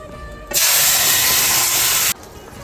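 A sudden loud hiss as drumsticks (moringa pods) hit a hot pan with ground masala, sizzling steadily for about a second and a half before stopping abruptly.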